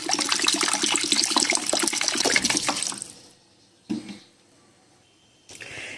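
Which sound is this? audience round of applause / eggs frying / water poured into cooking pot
water poured into cooking pot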